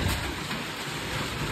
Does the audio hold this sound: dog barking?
no